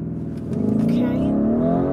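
Lamborghini Urus, a 2020 model, roars through a launch, its engine note climbing steadily as the SUV accelerates hard, loud and close from inside, with people talking over it.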